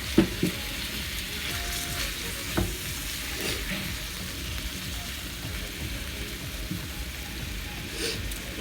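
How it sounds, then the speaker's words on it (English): Pork ribs fry in olive oil in a pan, a steady close crackling sizzle running throughout with a few scraping clicks of handling and no voices. "I like to fry my ribs on both ends before I place them in the oven."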